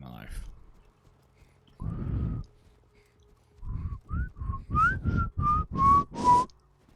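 A person whistles a short run of clear, bright notes, rising and falling in quick succession, after a lone sustained whistle earlier. Brief muffled sounds come between, and a faint voice is heard at the very start.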